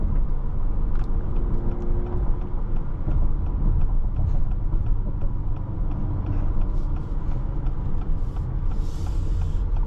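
A 2026 Acura RDX A-Spec Advance accelerating, heard from inside the cabin as a steady, smooth low engine and road rumble with faint ticking mechanical noises and no talking.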